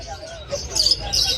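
Caged birds at the Malabon pet market give short high chirps and tweets over a low background murmur of market voices.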